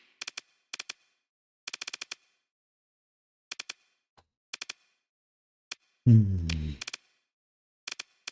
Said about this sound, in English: Autocannon.